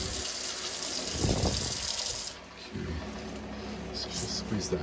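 Cold water running from a tap, a steady close hiss and splash that briefly surges and drops before continuing, with a person speaking over it.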